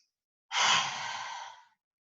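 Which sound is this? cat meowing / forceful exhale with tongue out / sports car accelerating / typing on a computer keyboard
forceful exhale with tongue out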